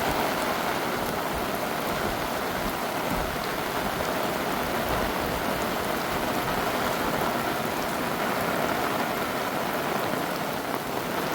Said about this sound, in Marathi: एकदम जोरात पाऊस आला आणि त्यासोबत हवा पण आली